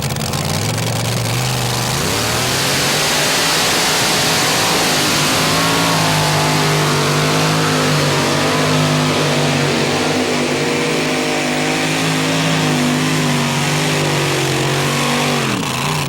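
1999 mini modified pulling tractor at a Tomah, Wisconsin pull, its engine roaring at sustained high revs for a full pull, loud and continuous with a slight pitch rise early on, with no one speaking.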